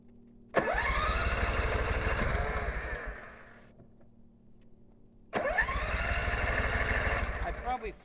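A Simplicity zero turn mower engine cranks twice with its choke pulled out, each attempt a loud churning starter grind of roughly two seconds followed by a brief quiet pause, nearby and with no running catch.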